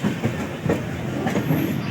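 The Gonda Express pulls away from platform 1 at an Indian railway station, a steady loud rumble with rhythmic clickety-clack of wheels over rail joints and a faint high squeal, no voices.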